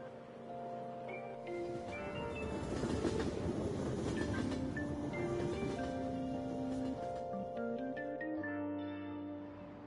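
Train ride ambience from the Persona 5 Royal video game: a steady rumble of a moving carriage under soft, quiet background music, swelling slightly in the middle before easing off.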